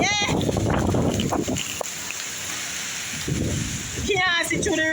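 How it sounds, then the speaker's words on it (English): Heavy rain from Hurricane Beryl pours down steadily around a veranda, a loud, dense hiss with rumbling undertones, and brief voices near the start and end. "Can't see through the rain good."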